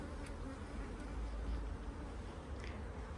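A honey bee colony hums near a hive in a dense, continuous buzz that stays close and steady throughout, with no pauses.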